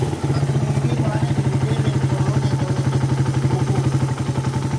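A motorcycle engine idling in a repair workshop, close and loud, with a steady low throbbing pulse and slight mechanical clatter held evenly throughout.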